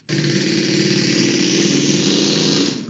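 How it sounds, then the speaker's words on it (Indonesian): A motorcycle with an enlarged exhaust roars loudly and steadily, engine buzz sustained for nearly three seconds before cutting off abruptly, close and alone. "saya beri kesempatan suara motor dulu ya."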